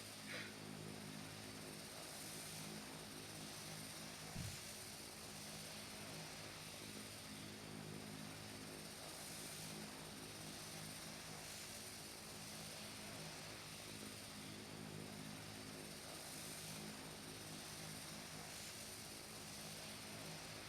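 Steady droning piston engine and propeller of a simulated Cessna 182 in Flight Simulator X over alpine valleys, a constant even hum that holds for the whole stretch at low level with no talking.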